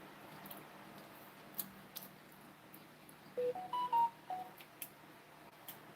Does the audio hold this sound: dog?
no